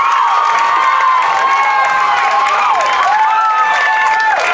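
A high school football crowd at Ortonville roars after a 70-yard touchdown in the Clearbrook-Gonvick game. Dense, loud cheering and shouting is sustained throughout, with whistles and yells rising over it.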